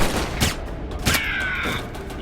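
Gunfire in the video game Alpha Protocol, with two loud close-range shots about half a second apart, each followed by a ringing metallic tail.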